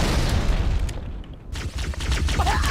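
A frag grenade detonates in the Halo 2 video game with a loud booming blast, followed by a short quiet gap and then rumbling debris and scattered pops fading out.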